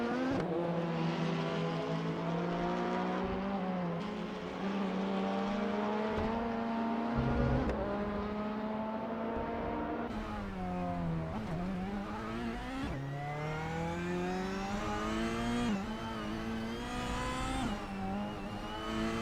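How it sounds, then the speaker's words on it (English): A 1998 Ford Mondeo race car in a racing game drones steadily at high revs, its engine note rising and dropping with repeated gear shifts, loud and continuous with other cars around. "Bob Empress is driving a 1998 Ford Mondeo, which is known for its stability and good cornering ability"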